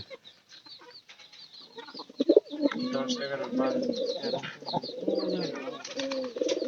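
Pigeons coo in a loft, several soft throaty rolling calls overlapping close by, with a few clucking notes mixed in and a brief sharp sound early on.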